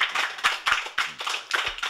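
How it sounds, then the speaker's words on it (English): A small group of friends claps for an elderly De La Salle brother celebrating his 86th birthday, giving several distinct, fairly close claps spaced irregularly rather than sustained applause. "Clap for that"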